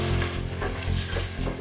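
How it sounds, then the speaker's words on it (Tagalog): Bagoong shrimp paste sautéing in a pan, with a little vinegar added, a dense steady sizzle and crackle, loud and close, with no voices. "So gigisa lang natin ating bagoong ng mga 2 to 3 minutes."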